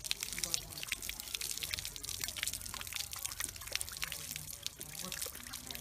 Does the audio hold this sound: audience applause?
no